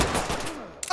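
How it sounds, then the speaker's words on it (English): A burst of gunfire in the tactical shooter video game Ready or Not, a loud, close crackle of rapid shots lasting about a second before cutting off. "Shots fired on the right side?"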